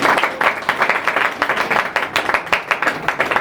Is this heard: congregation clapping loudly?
yes